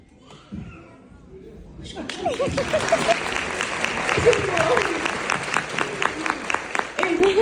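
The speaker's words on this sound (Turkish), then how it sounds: "Alkışlar Cemre ve Çınar için onları arkaya uğurluyorum" Applause from the audience at a preschool year-end show swells into steady, lively clapping that continues to the end, with scattered voices in the crowd.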